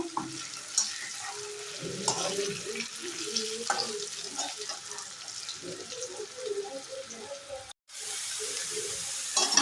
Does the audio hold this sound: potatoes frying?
yes